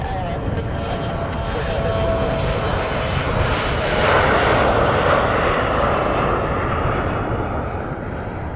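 A fixed-wing airplane takes off at Montréal-Trudeau airport, its engines giving a loud steady roar that swells toward the middle and holds for several seconds, heard from a distance.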